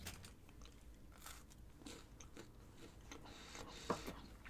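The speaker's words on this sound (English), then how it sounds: "A Nature Valley sweet and salty nut granola bar." Someone bites and chews a crunchy Nature Valley sweet and salty nut granola bar, with soft, quiet crunches repeating near the mic and no talking.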